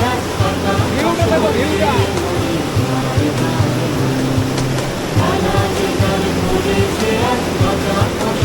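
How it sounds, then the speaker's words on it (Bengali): Released water of the Damodar river rushes past Rondia ghat in Bankura during the monsoon, a loud, steady, close roar that never lets up. "দামোদরের সমস্ত জল মানে ছেড়ে দিয়েছে যা জলের স্পিড সাউন্ড কি আওয়াজটাই আলাদা"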